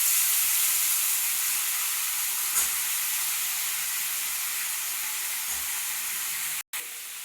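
Diced ridge gourd sizzles in hot oil in a home kitchen, a steady broad hiss with faint crackles that holds unbroken and ends abruptly near the close.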